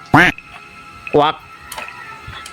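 Loud duck quacks ring out at a cemetery, two sharp nasal calls followed by fainter quacks, close by with quiet pauses between.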